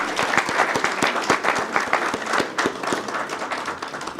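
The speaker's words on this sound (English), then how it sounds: "Let's give them a round of applause." An audience at an investment panel session on a trade mission to Tanzania and Kenya claps steadily, with a dense wash of hands and a few sharp individual claps standing out close by.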